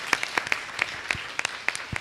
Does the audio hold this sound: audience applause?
yes